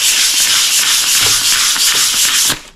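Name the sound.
sanding down a Wheel Horse tractor after sticker removal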